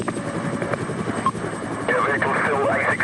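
Police helicopter hovering overhead during a UK car chase after a van on the A610, a steady rotor drone running throughout with police radio chatter and a brighter warbling tone layered in over the second half.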